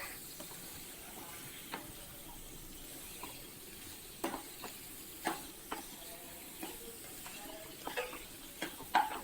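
Chicken being stirred with onion and garlic in a pan for garlic chicken, giving soft scraping and sizzling with scattered light taps of a utensil against the pan, quiet and close with no talk.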